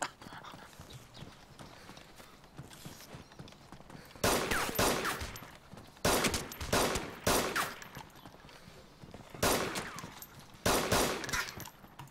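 Gunfire in the video game DayZ: several loud bursts of rapid shots in clusters separated by quieter pauses, close and sharp, with rattling repeated cracks.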